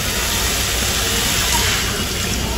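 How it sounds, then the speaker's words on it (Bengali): Water poured into a cooking pan with chicken makes a steady close gush that runs loudly and continuously without a break. "একটু পানি দিয়ে দিলাম"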